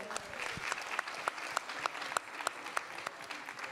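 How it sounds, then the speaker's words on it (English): An audience at a contemporary fiction reading event applauds, with steady, dense clapping and a few sharper individual claps standing out, fairly close and without talk. "Round of applause for Yasmin."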